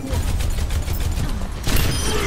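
Rapid gunfire from the video game Overwatch, a dense loud burst of repeated shots with mechanical clatter that shifts to a brighter blast near the end, no talking.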